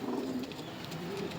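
Pigeons coo close by in soft, low, rolling calls, two cooing phrases heard over faint background noise.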